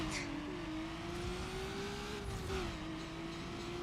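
A race car in Need for Speed Underground drives at speed, a steady engine whine holding pitch with slight rises and dips and a faint swish of passing traffic, kept at moderate level.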